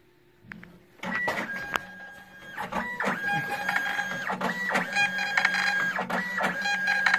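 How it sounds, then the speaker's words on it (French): A label printer prints shipping labels with barcodes and addresses, a close whirring, chattering feed in repeated bursts with small clicks and tones between passes, with no voices. "on choisit le produit dont on veut imprimer l'étiquette et on clique sur imprimer"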